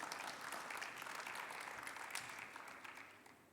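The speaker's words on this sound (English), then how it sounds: "please welcome, with a very, very kind applause" Audience applause at the ELF Liberal Awards 2022 welcoming a guest joining live from Poland: a steady, fairly faint wash of clapping throughout, tapering slightly toward the end.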